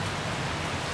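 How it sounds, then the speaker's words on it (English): Steady rain falls outdoors, a dense, continuous hiss of drops close by that fills the whole moment with no voices. "It's raining now"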